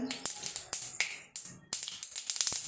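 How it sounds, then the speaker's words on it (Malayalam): Mustard seeds crackle in hot oil, a close run of sharp, irregular pops and snaps in quick bursts with brief gaps, no talking. "കടുക് പൊട്ടി തുടങ്ങി"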